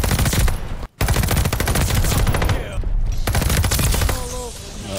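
Rapid automatic bursts from the Cooper Carbine in Call of Duty: Vanguard fire almost continuously, loud and close, with only brief pauses between strings of shots and some voice-like sound underneath.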